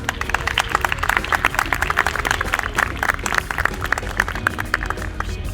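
Applause from a film screening audience welcoming the director and producer onstage, dense continuous clapping from many hands at close range, steady and fairly loud.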